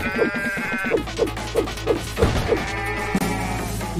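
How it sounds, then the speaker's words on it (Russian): Sheep bleat repeatedly in the video game Deeeer Simulator, a rhythmic run of close, loud bleats over game music, broken by a smashing thud. "Окей. Овцы. Снова."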